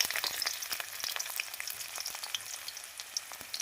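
Onions and cumin sizzle in hot oil in a pan for aloo gobi, a dense, steady crackle with small pops and no voices.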